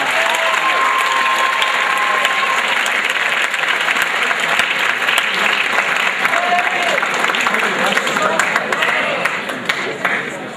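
Loud, sustained audience applause for Colby at an evening show, dense clapping mixed with crowd noise and a few cheers, holding steady for about ten seconds before easing slightly at the end.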